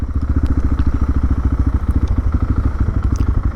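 Motorcycle shop ambience dominated by a nearby motorcycle engine running with a loud, steady, rhythmic low thumping pulse, with faint clatter above it.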